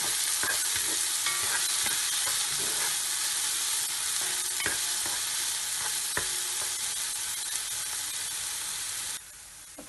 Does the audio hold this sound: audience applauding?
no